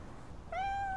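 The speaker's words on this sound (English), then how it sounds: "That's a cat." A cat lets out a single clear meow, rising sharply then holding steady, close and fairly loud against a quiet room.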